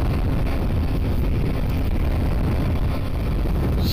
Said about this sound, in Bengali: আমি এখন এই R15 V3 Indonesia version বাইকটাতে top check করার চেষ্টা করব।